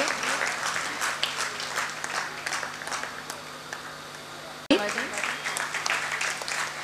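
Audience applause at a cultural event, a sustained crowd clapping with a brief dip and jolt partway, and some voices mixed in underneath.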